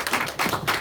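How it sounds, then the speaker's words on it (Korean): Congregation in a church during a Sunday morning service breaking into applause, a few bursts of dense clapping in quick succession, moderately loud. "우리 하나님께 영광의 박수 올려드리겠습니다"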